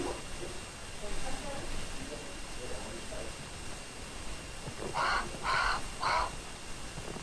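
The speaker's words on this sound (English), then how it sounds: "Bird?" Three harsh caws from a bird in the video game Grounded, evenly spaced and fairly loud, over a low, steady game background.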